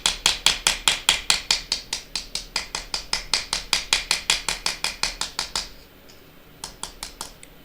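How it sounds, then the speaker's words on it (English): A small hammer taps rapidly and evenly on a fired silver bezel set on copper, around thirty crisp metallic strikes in a steady rhythm, then a short pause and a few final lighter taps. "I think I'm going to hammer it a little because this has been fired"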